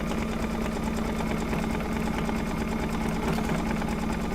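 An embroidery machine stitches an in-the-hoop door project, giving a steady, loud, continuous mechanical hum with a fast even needle pulse that runs unbroken and close throughout.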